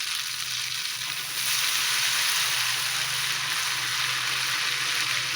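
Ghevar batter poured slowly into hot ghee sets off a steady, bright frying hiss close by, jumping louder after a second or so and sizzling on continuously.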